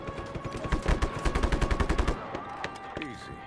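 Rapid bursts of automatic gunfire in the open-world action game Just Cause 3, a steady rattling stream of loud shots for about two seconds, then scattered single shots trailing off.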